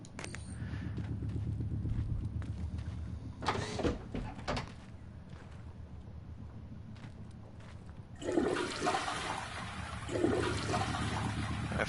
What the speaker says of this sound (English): If there is a trophy for toilet flushing, I am nailed on to get that.